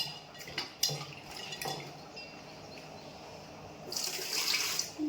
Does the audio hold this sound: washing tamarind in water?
yes